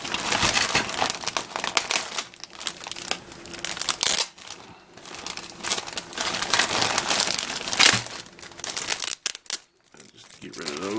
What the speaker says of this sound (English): It is cellophane taped together.